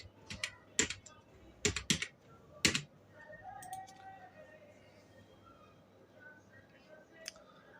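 Keys clatter on a computer keyboard as a captcha is entered on a National Scholarship form, with several quick close bursts of tapping, then a quieter stretch and one lone keystroke near the end.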